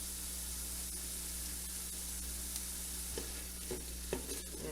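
A large garlic clove, chopped, cooks in a pan of oil with a steady, quiet sizzle over a constant background hum, broken by a few soft stirring scrapes near the end.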